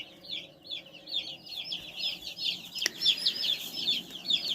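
A brooder holds about a hundred young meat chickens, and they keep up a steady chorus of high, rapid peeping and soft clucking nearby, with a sharp knock partway through.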